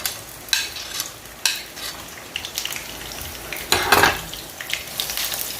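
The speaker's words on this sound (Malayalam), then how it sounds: "ഈ എള്ളെണ്ണേൻ്റെ അകത്ത് നമുക്ക് ഈ ചെറുതായിട്ട് പൊടിയരിഞ്ഞ വെളുത്തുള്ളിയും ഉലുവയും മൂപ്പിച്ചെടുക്കണം" Chopped garlic and fenugreek sizzle in sesame oil in a pan for mango pickle, with a steady fry broken by a few sharp stirring scrapes and a louder burst of sizzling near the end.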